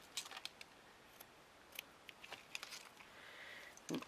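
Scissors snipping through card while making a gift card box, faint close cuts in scattered quick clicks and crisp snips, quiet and intermittent against a hushed room.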